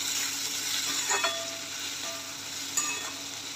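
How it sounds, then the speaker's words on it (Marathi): Sprouted green mung bean curry is stirred in a pan, giving a soft steady sizzle with a few scraping clicks of the spoon, quiet and with no talk. "आपण भाजी फिरवून घेऊया।"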